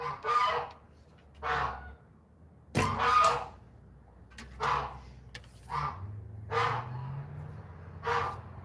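Geese near a barn honk in scattered bursts, about eight calls spaced a second or so apart. The calls are moderately near against quiet surroundings, with a sharp knock and a low rumble partway through.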